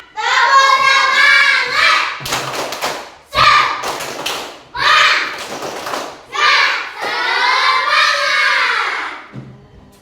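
Classroom of children doing a rhythmic spirit clap, loud patterned claps and thumps in bursts mixed with the kids' chanting and shouting voices.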